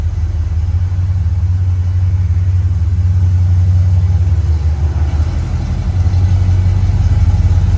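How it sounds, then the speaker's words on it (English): A Chevrolet Blazer with a small-block V8 and a big cam runs steadily nearby, giving a deep, continuous rumbling idle with no voices. "Another little running video of the Blazer. Small block, big cam in both of these short beds."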